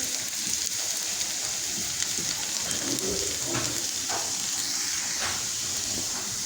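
Onions fry in a pan for chicken bread samosa filling, stirred with a spoon, giving a steady, moderate sizzle and hiss with occasional soft scraping clinks of the spoon against the pan.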